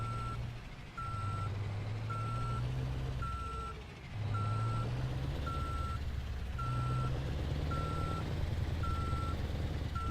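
A truck's reversing alarm beeps in a steady, evenly spaced series over a low diesel engine rumble in Euro Truck Simulator 2, while the engine note rises and falls slightly as the long trailer backs up.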